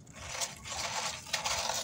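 Dried eggshells tumble into a metal soup can in a continuous bright clatter of small hard pieces that clink like glass, fairly close and with a couple of louder bursts, and no talking.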